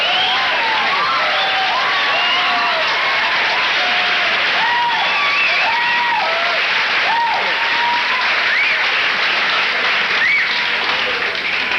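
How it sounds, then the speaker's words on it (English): A comedy-club audience bursts into dense, sustained applause mixed with a few whistles and cheers, loud and unbroken, with no voices speaking over it. "Thanks for applauding."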